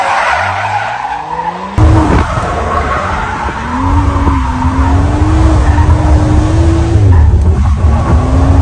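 Tires squeal steadily as a lowered BMW F30 335i with an MHD Stage 2 tune, formerly a drift car, skids along, its wavering screech riding over a loud, continuous engine roar.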